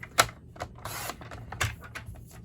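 A paper trimmer slicing through cardstock: brief clicks and short scraping swipes of the blade, close and crisp, with no talking.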